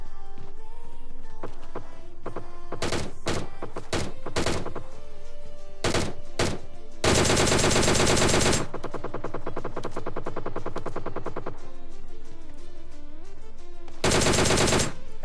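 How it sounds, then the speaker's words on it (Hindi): Bursts of G3 rifle fire in the battle game PUBG ring out in rapid automatic strings, with scattered single shots early, then two long sustained volleys, loud and close over a musical game background. "तो यहाँ पे G3 का साउंड आ रहा था।"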